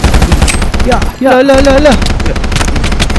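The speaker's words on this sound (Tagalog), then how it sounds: "Lakas ng baril nun ah." Rapid bursts of automatic gunfire from a Minecraft zombie apocalypse game crackle continuously and fairly loudly, with a player's voice talking over the shooting.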